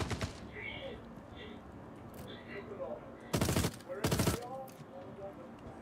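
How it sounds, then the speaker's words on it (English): Gunfire in the space game Star Citizen: two loud, close bursts of rapid automatic fire stand out over quieter background sounds and a few fainter shots, with a person talking in between. "Where the fuck are they shooting from?"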